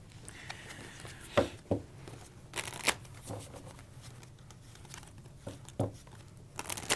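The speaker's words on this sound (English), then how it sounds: "I need a 6, so I'm gonna shuffle." A deck of KeyForge cards is shuffled by hand in several short riffling bursts, crisp and close, with quieter gaps between the flurries.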